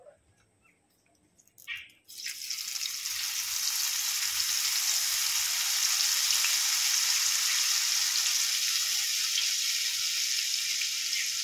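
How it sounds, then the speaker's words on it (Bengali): Batter drops for mihidana, the Bengali sweet, fry in hot oil with a steady, dense sizzle that bursts in after a short quiet start and holds loud and even to the end. "সেমভাবে আবারও ভেজে নেব।"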